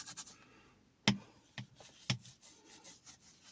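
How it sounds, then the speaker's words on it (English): A detailing brush scrubs cleaner into leather in a few short, sharp strokes with quieter rubbing between them, close up and with no voices. "I prefer using my detailing brush, because it gets into all the little nooks and crannies and it's not too harsh."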